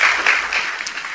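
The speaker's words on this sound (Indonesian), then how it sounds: "Luar biasa, tepuk tangan dong." A church congregation claps during a Christian sermon, a short, loud burst of dense applause with no talking over it.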